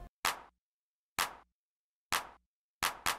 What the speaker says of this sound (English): First, this 808 clap.